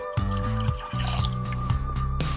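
Milk poured into a bowl of cupcake batter with eggs already added, a short close liquid glug and dribble with a few soft drips, quiet and heard alone.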